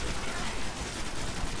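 Gunfire in the video game Destiny comes at the player as a dense, continuous rattle of shots, fairly quiet and without clear gaps across the short stretch.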